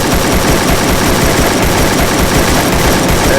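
Rapid automatic gunfire in the shooting game Free Fire, a dense, loud, unbroken burst of shots filling the whole stretch.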